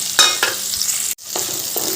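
Chopped tomatoes hit a pan of frying potatoes and are stirred, giving a close, continuous sizzle broken by several spoon scrapes and a brief cut-out near the middle, with no voices over it.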